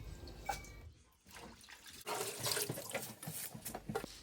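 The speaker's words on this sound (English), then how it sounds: "I then added it to the sink to give a really good rinse" Sliced homegrown cabbage being rinsed under running water in a kitchen sink, with steady splashing and gushing that swells and fades in bursts, close and fairly loud, no talking.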